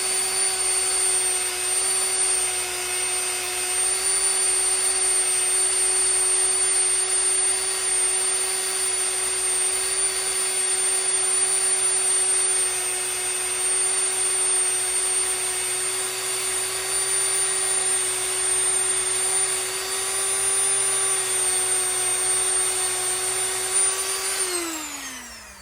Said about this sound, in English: switch from our buffing wheel, or the compound wheel rather